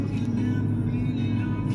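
Cars crawling in heavy traffic near the Skyway, a steady, close engine rumble and road drone with no break.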